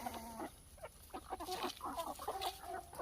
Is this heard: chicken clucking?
yes